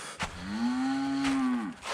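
A cow on a farm gives one long, steady moo that swells and fades, fairly loud and close, with a faint quieter call before it and no talk.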